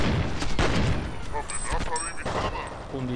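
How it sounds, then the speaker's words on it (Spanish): Gunfire in the shooter game F.E.A.R. Perseus Mandate: several loud, sharp shots and bursts close together, with someone talking over part of the action. "Un disparo."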